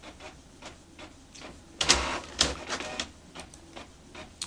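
Label printer running off shipping labels at home, a short burst of mechanical printing noise with a couple of louder feed strokes in the middle, close and fairly quiet with no talking.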